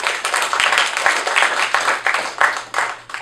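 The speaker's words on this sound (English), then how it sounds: "by a round of applause" Theater audience at an improv showcase applauding steadily throughout, a dense wash of many hands with a few louder claps poking through, fairly close.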